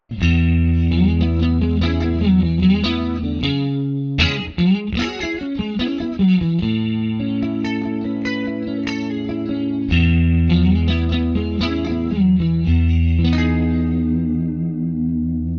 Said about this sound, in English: I've got a rotary speaker emulation up front, some slapback delay, and plate reverb.